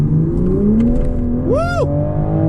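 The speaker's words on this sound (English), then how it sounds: "I hope you guys can hear the exhaust coming through the cameras." 2021 Toyota GR Supra with a 3.0L turbo engine pulling hard from a slow roll, a loud, steady exhaust drone rising in pitch throughout, with a brief whoosh sweeping through in the middle.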